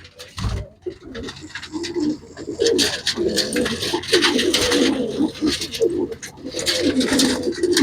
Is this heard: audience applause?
no